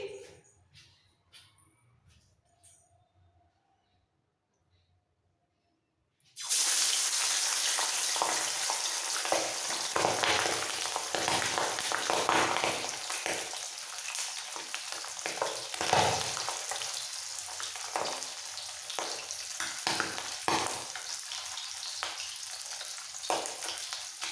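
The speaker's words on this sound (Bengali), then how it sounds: "তেল ভালোভাবে গরম হয়ে গেছে এবার মাছগুলো ছেড়ে দিচ্ছি" Pabda fish frying in hot mustard oil: a few seconds of near quiet, then a sudden loud burst of sizzling as the pieces hit the pan, settling into steady crackling with occasional pops.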